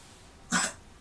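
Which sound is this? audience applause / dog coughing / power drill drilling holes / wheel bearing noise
dog coughing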